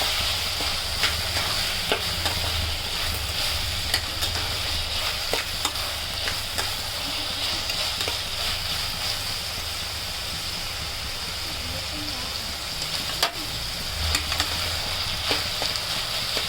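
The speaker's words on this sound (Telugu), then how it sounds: "మళ్ళీ ఇలా కలుపుకుందాం." Fish egg bhurji sizzles loudly in a hot pan as a utensil stirs it, a dense, steady frying hiss up close, punctuated by occasional scrapes and taps against the pan, without talk.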